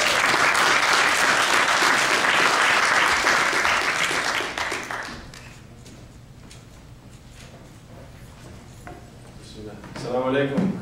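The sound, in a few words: audience applause for a performer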